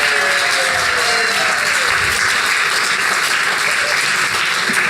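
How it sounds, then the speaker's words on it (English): Loud, sustained applause from a large audience welcoming a guest onto the stage at a conference, a dense wash of clapping filling the whole stretch without letting up. "Big round of applause."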